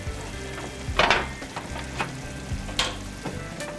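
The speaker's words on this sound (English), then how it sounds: "our broth has come to a nice simmer" Broth for holiday stuffing simmers in a pot, a soft, continuous bubbling with a few louder bursts and clinks rising above it at irregular moments.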